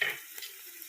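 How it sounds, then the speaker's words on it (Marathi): Malvani masala, garam masala, chilli powder and turmeric roasting in hot oil for a crab masala, giving a brief close sizzle and stir that fades to a soft steady frying hiss. "आता हे मसाले चांगले तेलात भाजून घ्यायचे।"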